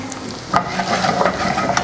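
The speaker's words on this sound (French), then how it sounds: "La sauce, elle bout." Sauce bubbling and sizzling in a pan with poultry and a garlic clove, a steady close crackle with a few louder stirring clatters.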